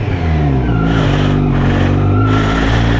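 Kawasaki Z900 2020 motorcycle engine revving up loudly and close, the pitch climbing and falling over a few throttle blips with a steady rumbling idle underneath.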